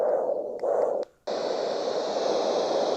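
Children's toy sound machine playing white noise, a small, even electronic hiss that cuts out briefly, then returns brighter and steady, close and fairly quiet.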